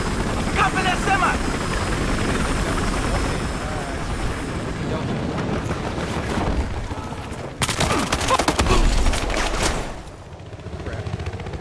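A helicopter in the Battlefield Hardline video game drones loudly across a busy game soundscape, mixed with bursts of gunfire and explosions, including a sharp loud blast near the end.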